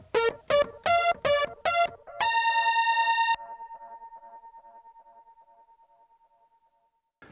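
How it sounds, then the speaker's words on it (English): Behringer Neutron synthesizer playing a power brass patch: five short punchy brass stabs, then a held note that cuts off and leaves a long fading echo tail, with a faint click at the end. "this is power brass and it sounds like this"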